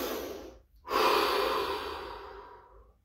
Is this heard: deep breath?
yes